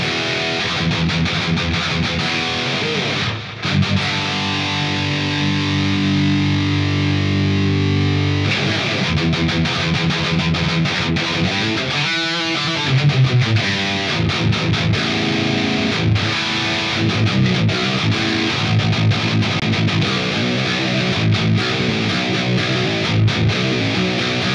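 Heavily distorted electric guitar through the PolyChrome DSP McRocklin Suite amp plugin on its Angry Metal preset, loud dense chugging riffs and sustained chords with brief pauses and a rapid tremolo-picked passage, no talking.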